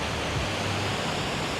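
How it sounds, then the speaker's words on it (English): Ocean waves washing onto a beach in Da Nang, a loud, steady broadband roar of surf with no distinct breaks and no talking. "and beautiful ocean, beautiful beach"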